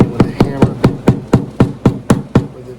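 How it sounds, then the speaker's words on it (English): A hammer taps a Gibson LG-0 acoustic guitar's replacement bridge into place, about ten sharp, evenly spaced woody knocks close by, with no talk. "I think I'm just going to tap it in with a hammer."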